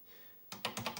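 Keys on a Commodore PET 2001-N computer keyboard are pressed in a quick run of about five crisp, close clicks after a short quiet pause.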